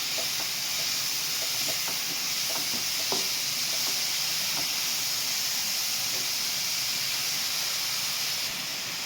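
Steady, bright sizzling and hissing of curry leaves and chillies frying in hot oil, with faint scattered crackles and pops throughout.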